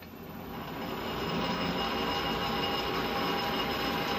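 Lathe refacing a classic Mini clutch backplate, a steady broadband machining whir that swells over the first second and then holds evenly and moderately loud, with no talking.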